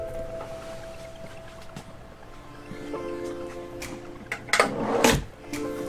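A wooden drawer is opened in a 2019 Airstream Atlas motorhome, giving a low rolling slide that builds to a loud clunk and rattle near the end over faint background hum.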